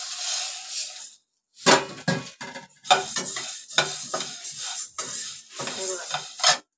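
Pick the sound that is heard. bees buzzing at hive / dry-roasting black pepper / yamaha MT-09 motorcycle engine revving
dry-roasting black pepper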